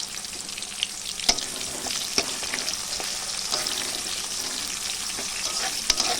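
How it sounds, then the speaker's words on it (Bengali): Onions frying in hot oil, in oil left over from frying potatoes, make a continuous dense crackling sizzle with occasional sharp spatula taps and scrapes against the pan. "ওই তেলে পেঁয়াজ দিয়ে দিচ্ছি"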